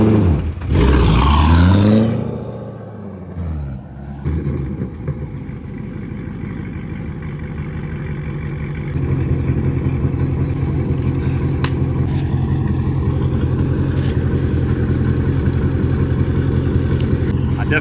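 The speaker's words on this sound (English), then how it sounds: "Cameraman keeps saying the car's too loud." A C6 Corvette with long-tube headers and a straight-pipe exhaust fires up with a loud bark, then drones at a steady, deep, raspy idle close by that grows slightly louder partway through.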